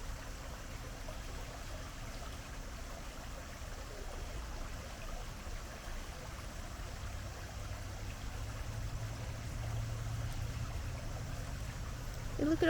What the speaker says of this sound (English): Listen to that water. I could listen to that all day.